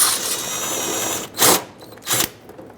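A power driver spins out a 7mm headed screw holding the bumper cover to the fender on a 2010-2017 Chevrolet Equinox, a whirring run followed by two short sharp bursts, close and alone.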